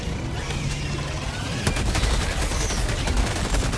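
Gunfire aimed at a Charger in Helldivers 2: loud, continuous shooting under dense battle noise that grows heavier partway through, with rapid sharp reports.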